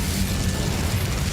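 An Incendio fire spell cast in Hogwarts Legacy, a short steady whooshing burst of flame with low rumbling body, sustained and fairly loud throughout with no voices.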